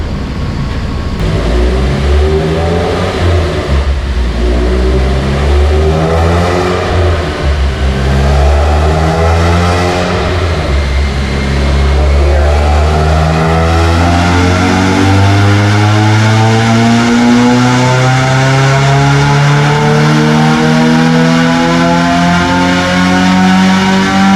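An Ecotec-swapped Mazda Miata engine on a dyno revs loudly and continuously, its pitch climbing steadily through a long pull, close and with no talking.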